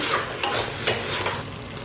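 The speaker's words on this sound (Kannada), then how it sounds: "ನಾವು ಈ ಒಗ್ಗರಣೆಯಲ್ಲೇ ಈ ಹಲಸಿನಕಾಯಿನ ಬೇಯಿಸ್ಕೋಬೇಕು" Raw jackfruit is stirred and fried in a hot tempering for curry. The oil sizzles steadily, and two quick scraping stirs sound close to the pan.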